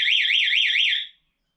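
A Spy 5000 motorcycle alarm blares a loud, close, warbling electronic siren that rises and falls in steady cycles for about a second, then cuts off abruptly into silence.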